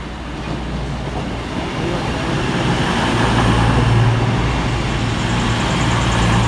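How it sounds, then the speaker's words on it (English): A CrossCountry train pulling out of Stockport station, heard from onboard as a steady, loud rumble of wheels and running gear that builds slightly as it gathers speed, with no talk. "Well, we're leaving Stockport. We're on the cross country."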